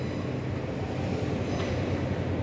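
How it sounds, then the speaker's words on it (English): Azuma Class 801 train emerging from Gasworks Tunnel near London King's Cross, a steady broad rumble of the train passing fairly close with no break. "we've got a train coming out of Gasworks Tunnel, which is a boring old Azuma"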